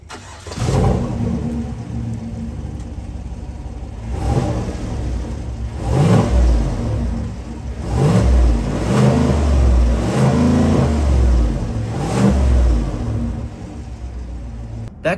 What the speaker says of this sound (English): let's go ahead and listen to this V8 sing via the catback exhaust from the outside